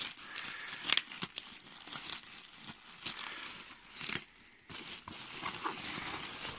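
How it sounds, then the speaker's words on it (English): Plastic protective bag being pulled off a large Chinese-made carrying bag for a 1-meter refractor telescope, crinkling and crackling in irregular bursts at close range, with brief pauses between handfuls and no talking. "So I'm removing the plastic bag"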